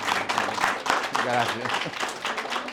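A conference audience claps for a speaker, a modest patter of applause mixed with a voice talking over it at close range.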